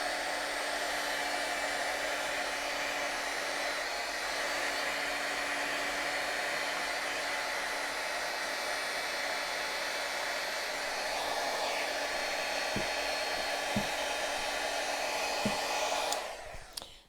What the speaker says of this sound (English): I'm going to just dry that with my heat gun